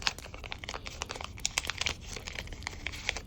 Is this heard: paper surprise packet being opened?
yes